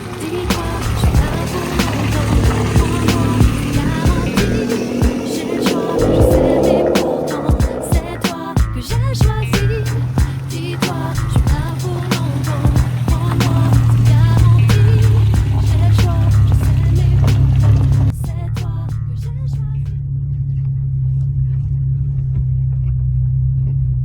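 A BMW F30 car drives through a muddy bog, a loud continuous rumble with a dense stream of sharp clatters as mud is flung against the body, close and sustained before the engine drone settles and the spatter stops.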